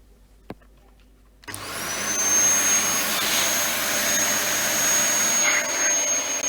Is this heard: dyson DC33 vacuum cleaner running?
yes